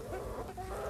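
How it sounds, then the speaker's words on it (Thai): Laying hens on a small mixed farm plot cluck steadily and close by, a continuous overlapping chatter of several birds with no talk over it. "อันนี้ก็คือเอาไก่มาเลี้ยงครับไก่ไข ่โอ้ไก่10กว่าตัว"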